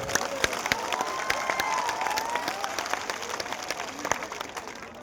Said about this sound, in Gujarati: પહેલા બે હાથ ઊંચા કે તાળીઓથી જિજ્ઞેશભાઈને વધાવો